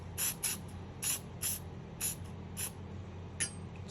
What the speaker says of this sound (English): Spring is sprayed.